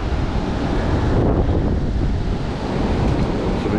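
Strong wind from a big southeasterly buffets the microphone in a steady, loud roar on a rocky coast, with crashing surf from the shore underneath and no voices.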